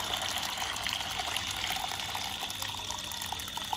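Soaked black sticky rice and its water tipped into a woven steaming basket, producing a continuous watery rush and trickle, fairly faint and steady, with no voices.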